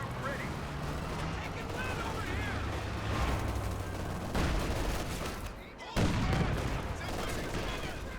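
Artillery barrage from a Scott self-propelled gun in the Company of Heroes 2 real-time strategy game, a steady stream of distant booms and shell impacts layered with battle noise, running continuously under commentary.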